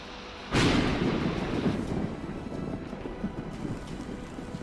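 A sudden loud burst of heavy rain and thunder in Ahilyanagar, Maharashtra, then a steady downpour flooding the road that slowly eases, with no one speaking.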